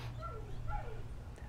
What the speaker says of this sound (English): my dog's just barking again